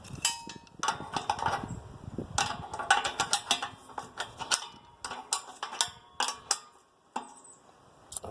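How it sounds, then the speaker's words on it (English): Two nuts are tightened against each other on a Wood-Mizer LX-25 sawmill frame, giving a run of sharp metallic ticks and clicks from a hand tool with short pauses between bursts, close and fairly quiet. "We just have to tighten them up against each other."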